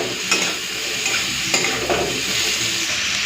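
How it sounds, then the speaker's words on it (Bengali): Onions and potatoes fry in hot oil and give off a loud, continuous sizzle. A spatula scrapes and stirs them at intervals, and no one speaks. "একটুখানি ভেজে নেবো লাল লাল করে।"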